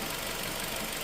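A Nissan X-Trail engine idles around 700 rpm during a cylinder misfire test with an ignition fault, giving a steady low rumble with a faint knocking texture and no talk over it.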